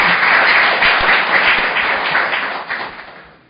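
Audience at an indoor policy forum on resuming Mount Kumgang tours applauds to welcome a lawmaker to the podium, a dense burst of clapping that fades out over a few seconds.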